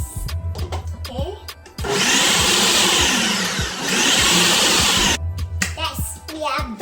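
A blender runs for a few seconds on a sausage sauce, a loud steady whirr that dips in pitch once, between stretches of talk and kitchen clatter.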